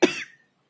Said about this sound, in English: got a cough